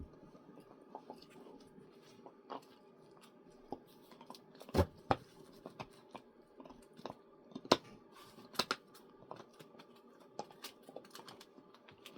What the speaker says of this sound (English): Don't mind the chewing in the back.